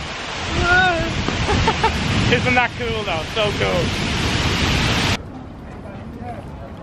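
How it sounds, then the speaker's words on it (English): Gusty wind at Marina Bay near Gardens by the Bay in Singapore buffets the microphone with a broad rushing roar beneath people talking, then eases noticeably near the end. "It's so windy right now."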